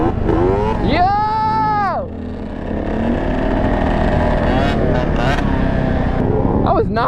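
A two-stroke motorcycle at a stunt lot revs hard in a sharp rising-and-falling burst, then carries on at a loud, buzzy idle. Excited voices talk over the engine throughout.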